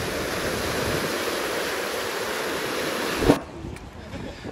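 The Mzymta river, swollen by heavy rain, churns and rushes into the sea near Adler as a loud, steady roar of water that stops abruptly near the end, followed by a sharp knock and faint background.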